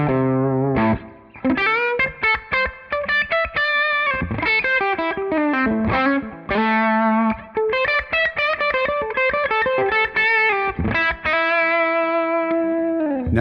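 Electric guitar played through a JTM45 amp model in Tonex, with the normal channel pushed to high gain, giving a crunchy, woolly overdriven tone. Loud riffs of chords and single notes run continuously, ending on a sustained ringing chord.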